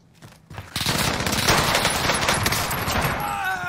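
Sustained machine gun fire in the video game Warzone: a dense, unbroken burst of rapid shots starts after a short quiet lead-in and stays loud and close to the end, with faint chatter under it.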